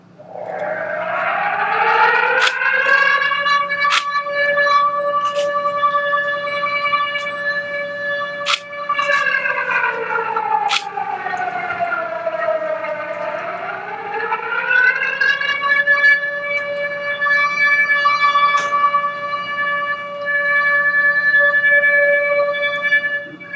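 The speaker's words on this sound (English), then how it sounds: "Play the siren." A civil defense siren sounds at a memorial gathering, a loud sustained wail that rises, dips and swells again in long sweeping cycles with a few sharp clicks, and no talking over it.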